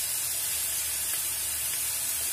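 Calamari hitting a hot seafood paella pan gives a steady, broad sizzling hiss that carries on without a break from start to end, close and moderately loud, with no voices.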